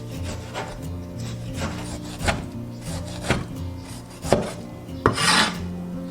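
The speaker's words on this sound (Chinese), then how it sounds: "准备1小块提前煮好的四川腊肉，给它切薄片。" A knife slices a small block of cooked, fatty Sichuan cured pork into thin slices on a wooden board, giving a series of distinct chopping taps at uneven intervals over steady background hum, close and clear.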